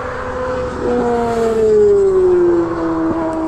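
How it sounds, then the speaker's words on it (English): A Kawasaki ZX6R sport motorcycle riding past, its engine note rising and then falling in pitch as it approaches and goes by, loud and close, with no talking. "That's my friend who's riding the motorcycle."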